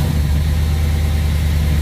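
A 1967 Pontiac Tempest engine running after a rebuild, held at slightly raised RPM, a steady, loud, deep rumble with no break for about two seconds.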